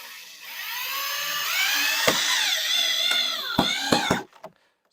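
Power drill driving a screw into sliding barn door hardware, a sustained whine rising and falling in pitch for about four seconds, broken by a few sharp clicks before it stops.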